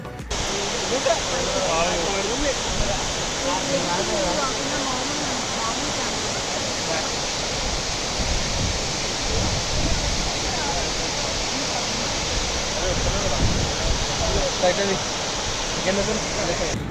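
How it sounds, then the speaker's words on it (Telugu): Abbey Falls in Coorg roars in a constant, dense rush of falling water, loud and close, filling the whole stretch without pause. "మీరు కూడా ఆ వాటర్ ఫాల్స్ సౌండ్ని అన్ని మీకు కూడా క్లియర్గా వినిపిస్తుంది."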